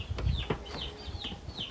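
A pet rooster makes soft clucks and short chirpy calls close by, quietly, with no talking.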